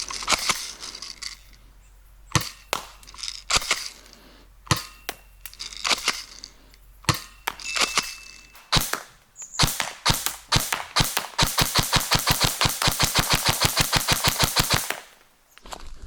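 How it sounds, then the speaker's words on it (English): Airsoft guns fire BBs into a target tent: sharp single shots spaced apart at first, then a dense rapid-fire burst of snapping impacts near the end, loud and close with no talking. "We're going to be testing the tent at different distances and of course with a whole bunch of different airsoft guns."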